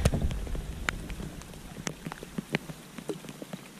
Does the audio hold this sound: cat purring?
no